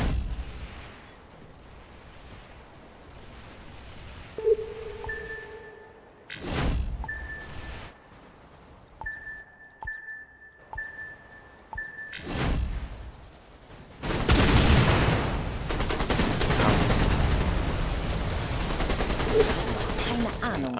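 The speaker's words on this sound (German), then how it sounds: "Gebäude steht unter feindlichem Beschuss." Enemy fire strikes a building in the strategy game Anno 2070, heavy booming impacts hitting at intervals among interface beeps and tones, then a sustained rumbling barrage near the end; a voice speaks briefly.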